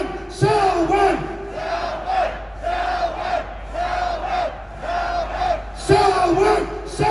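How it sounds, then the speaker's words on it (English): A large rally crowd in London chants a name together in a steady, repeated rhythm, loud and close, with the massed voices rising and falling on each repetition and swelling again near the end. "So I want everybody in the crowd to start chanting, Salwan, Salwan, Salwan."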